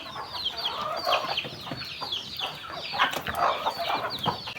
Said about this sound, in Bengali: এই যে সন্ধ্যাবেলা এখন আমাদের দেশি হাঁসগুলো যে কুটিতে উঠতেছে